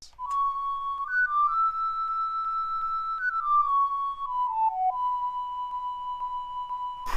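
A flute-like ocarina tone from the Zelda game Ocarina of Time plays a single sustained melody line of long held notes with gentle pitch slides, clear and alone without accompaniment.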